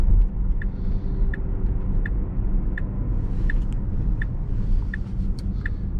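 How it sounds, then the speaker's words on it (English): Steady low rumble of a Tesla running FSD 13.2.7 driving through streets toward a plaza, constant road and tire noise inside the cabin, with a faint regular ticking like a turn signal throughout and no voices. "The car is driving by itself."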